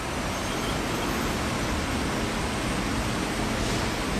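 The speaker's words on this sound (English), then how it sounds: "he pulls down the handle so he can operate the saw and bring it down to make the cut" Holz Her vertical panel saw cutting through a panel, a loud, continuous broadband whine and rush held at an even level from start to end, no voices.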